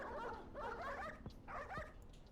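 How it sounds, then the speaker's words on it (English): A small, yappy dog in the Dog Witch video game gives a few short, bright bursts of yapping in three clusters over steady background sound. "A little yappy dog."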